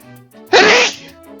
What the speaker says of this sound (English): I tried to get the mic away in time, but I sneezed.